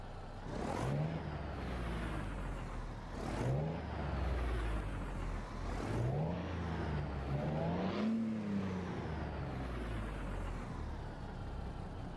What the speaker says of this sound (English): We do got a Cat C15 525 horsepower straight pipes